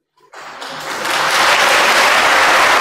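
Warm applause from a crowded hall at a swearing-in ceremony, rising quickly from silence into sustained, dense clapping that grows louder and holds steady.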